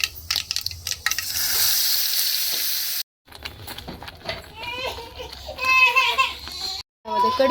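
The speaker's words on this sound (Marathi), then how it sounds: "सुरुवातीला तेल टाकूयात खूप सारं, जिरे, मोहरी आणि हळद टाकते।" Cumin seeds, mustard seeds and turmeric sizzle and crackle in a generous pour of hot oil for a tempering, with stirring clatter and a brief break partway through.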